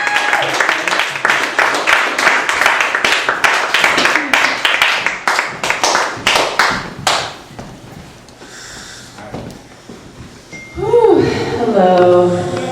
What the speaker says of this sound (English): So let's have a big round of applause for Ashley Hefnawy.